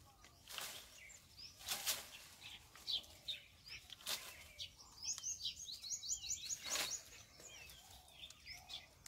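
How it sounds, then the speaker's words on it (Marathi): Sparrows chirp and tweet around cashew trees in a Konkan orchard in Sindhudurg, with repeated bright calls and trills through the scene, some near and some farther off, alongside a few soft rustles. "आजूबाजू चिमण्यांचा आवाज वगैरे खूप छान वाटतं"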